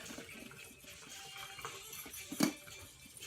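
Hot water being drained from a pot of boiled egg into a sink inside a camper, a steady splashing pour with a brief louder clatter near the end.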